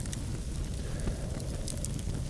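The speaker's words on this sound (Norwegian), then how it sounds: "Bare nyte bålet og varmen." An outdoor autumn bonfire of wood burns at sunset, giving a steady, close crackling and hissing with scattered sharp pops and no voices.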